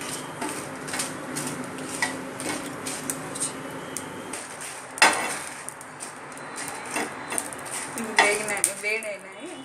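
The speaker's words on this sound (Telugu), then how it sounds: "ఇప్పుడు ఈ ఎండుమిరపకాయలను వేడి చేసుకోవాలి." Dried red chillies roast in oil in a pan for Kadapa-style chilli powder, making a soft sizzle under repeated clinks and scrapes of a utensil against the pan, with one louder clatter midway.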